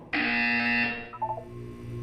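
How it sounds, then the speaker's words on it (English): A harsh electronic buzzer in the video game Portal 2 blares for about a second, then drops into a few short wavering beeps. "When you hear the buzzer, look down at the floor"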